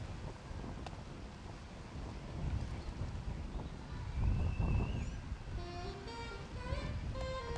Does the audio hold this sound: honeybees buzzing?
no